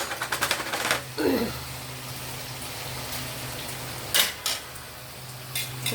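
Chopped tomatoes tipped into a pot of chicken curry with fried onions, giving a soft wet sizzle after a burst of clatter, then steady low cooking noise with a couple of brief utensil clinks near the end.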